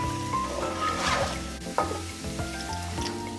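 A flour-and-butter roux for white sauce sizzles gently in a pan while being stirred, soft continuous frying crackle with scraping strokes, close and fairly quiet.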